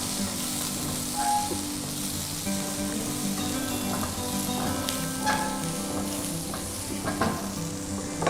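Onions sizzle steadily in a hot pan for a prawn fry, a continuous close frying hiss with occasional stirring scrapes and clinks from a utensil, no voices.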